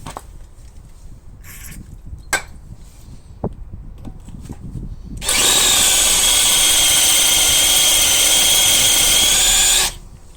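A power drill enlarging the hole in an anti-theft wheel bolt whines loudly and steadily for about five seconds, starting abruptly after a few faint knocks and stopping just as suddenly.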